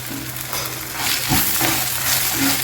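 Curry leaves hit hot oil in a pan while making gongura pulihora, giving a steady close sizzle and crackle with faint stirring scrapes, no voices.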